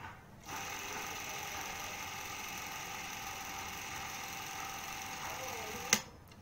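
A Bolex film camera mechanism whirs steadily after the button is pressed, a close, even mechanical hum that stops suddenly with a small click near the end.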